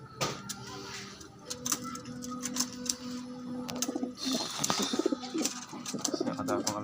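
Pigeons coo in a series of soft, rhythmic calls close by, with chirps and rustling mixed in, a voice talking briefly among them.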